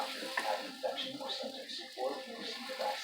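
Scrambled eggs sizzle and pop in a pan while young children talk and are told to keep stirring, the frying crackle running steadily beneath their voices.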